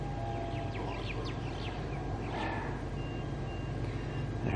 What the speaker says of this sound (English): They had the doors closing sound go over three times now.